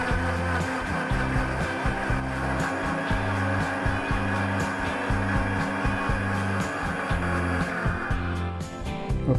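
Shallots and water whirring in an electric blender: a loud motor whine that pulses in uneven bursts as the blade churns, steady for several seconds before the pitch shifts near the end, with no talking.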